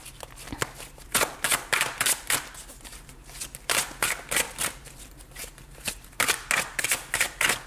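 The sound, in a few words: tarot cards being shuffled for a new draw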